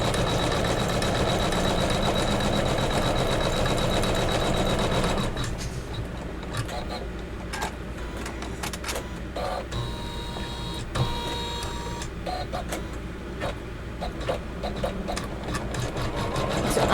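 An embroidery machine quilts a Kimberbell pillow block in the hoop, first in a dense, continuous whirring run, then in lighter, intermittent stitching with ticks and clicks, close up.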